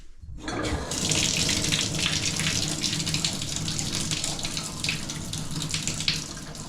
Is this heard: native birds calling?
no